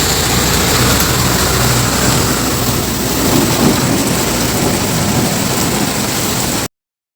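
A thunderstorm over Milan with heavy rain and hail pounding down, a loud, dense, unbroken roar of downpour and rumbling that cuts off abruptly near the end.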